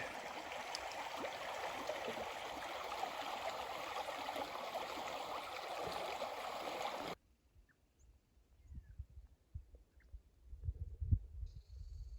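The Yellowstone River runs steadily at a backpacking ford in the Thorofare backcountry, a loud, close broadband rush of water for several seconds before it cuts off abruptly, leaving only faint scattered rustles and low thumps.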